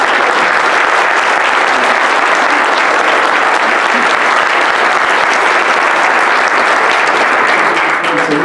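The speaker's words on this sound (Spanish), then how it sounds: "quería pedirle a ustedes un nuevo aplauso para los panelistas" At a seminar on cooperative-sector public policy, an audience gives the panelists sustained applause, a dense, loud patter of clapping hands that fills the room and holds steady from start to finish.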